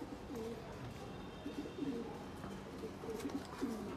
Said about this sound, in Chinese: 到鸽子了，小红回来了。